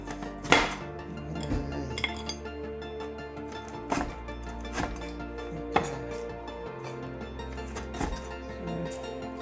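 A knife slices through frozen food on a board while khao poon is being made, with sharp chopping knocks spaced every couple of seconds over a steady kitchen background and no talk.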